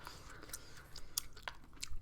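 Gum being chewed close up in a quiet room: soft, irregular wet clicks and smacks at an uneven rhythm over a faint low background, with no speech.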